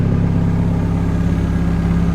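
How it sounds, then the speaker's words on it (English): A cold-started VW Scirocco Mk2 with a 1.8T 20v engine in a rear-wheel-drive build idles at about 1000 rpm, a steady close, loud low throb with an even pulsing rhythm and no voices. "But it's idling much better now."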